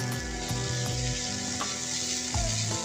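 A potato and semolina burger mixture with small pieces of Amul cheese frying on a flat tawa, a steady soft sizzle under faint stirring, with music playing in the background.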